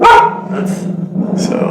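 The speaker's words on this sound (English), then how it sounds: "Sorry about the dog." A dog barks close by, one sharp bark followed by softer whining yips, while a person talks over it.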